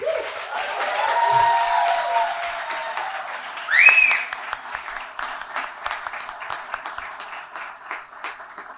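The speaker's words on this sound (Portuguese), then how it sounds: "eu quero pedir à plateia uma salva de palmas" A church audience at a night show event gives a round of applause, steady clapping swelling early and peaking briefly before tapering, with a faint voice over it.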